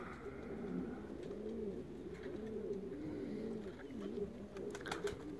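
Pigeon cooing softly and repeatedly in a steady rhythmic series of low throaty coos, fairly faint against a quiet background.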